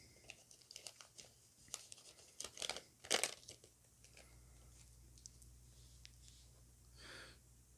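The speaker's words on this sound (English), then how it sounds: "Put the cards back in their pack." Pokemon trading cards rustle and crinkle as they are slid back into a foil booster pack, with short close crackling bursts and a louder crunch midway, then quieter handling.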